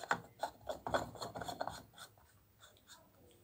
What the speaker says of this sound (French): On va la visser. Et voilà, faut bien visser.